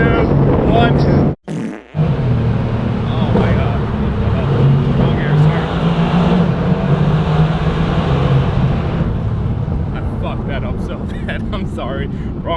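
Loud, rumbling sports car exhaust roaring and echoing in a tunnel, sustained for several seconds before easing off, with a voice speaking over it.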